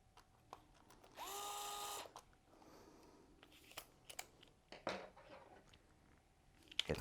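A small electric driver whirs briefly for about a second while tightening the lid screws on a hobby servo box, followed by quiet clicks and handling taps of small parts.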